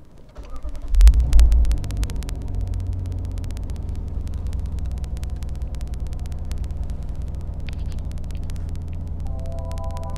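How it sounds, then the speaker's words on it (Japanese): A Lexus RC F engine starting, heard from inside the car: a brief starter whir, a loud rising burst on ignition, then the engine settles into a steady, smooth low idle rumble. "エンジンをかけてみようと思います。"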